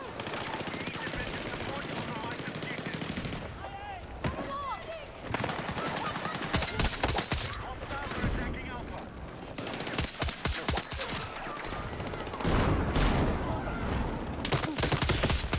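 Dense video game gunfire, with rapid machine-gun bursts and single shots crackling over a steady background of battle noise for the whole stretch.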